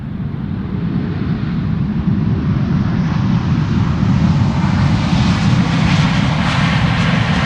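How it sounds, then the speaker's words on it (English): An Air Canada Boeing 787 Dreamliner landing at Schiphol Airport produces a loud, continuous roaring rumble with a slowly rising hiss as the jet passes fairly close, with no voices. "Air Canada is about to land, arriving from Montreal. 7878 Dreamliner, 6 hours and 13 minutes underway."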